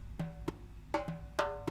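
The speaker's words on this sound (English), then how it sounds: "this is like the old calypso kind of sounding snare" An old calypso-style snare drum sample, a pitched timpani-like snare in a soca production, plays short sharp hits in a loose pattern with faint side stick. Around six strikes are heard alone in under two seconds, close and clear.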